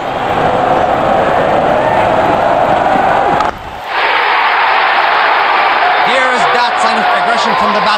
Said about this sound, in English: The crowd is exhilarated.